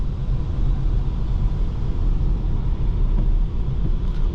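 A car cruising along at night, a steady low engine and road rumble filling the interior, continuous and even with no speech.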